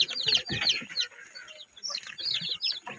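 Newly hatched chicks on a small farm, a dense flock of high, rapid peeping and cheeping, close and continuous with brief lulls.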